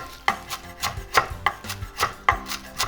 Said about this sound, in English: the chopping we're gonna do is of the parsley and the fresh dill.